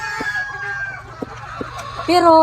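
Chickens on a small egg farm cluck in short bursts, and a rooster crows loudly near the end, with faint background noise throughout and no talking.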